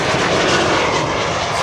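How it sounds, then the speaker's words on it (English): A KLM Embraer E2 jet departing Amsterdam Schiphol, its engines roaring loud, broad and steady at close range throughout, with no voices over it. "This is KLM Flight 913 to Aberdeen. Another E2 Embraer."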